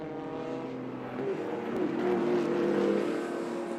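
Porsche and Ford race cars passing on a track, engine note swelling and rising in pitch as they draw near, then easing off slightly, moderately distant.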